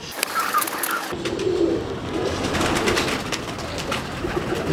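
Pigeons of a Mamdeen breed coo softly and steadily, with brief chirps over a constant room hiss and no talk.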